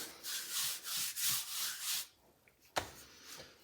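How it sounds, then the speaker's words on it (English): Rolling pin sheeting croissant dough thin, several soft rhythmic rubbing strokes followed by a quieter pause and a single sharp knock. "I started sheeting this dough, and I'm gonna finish sheeting it right now"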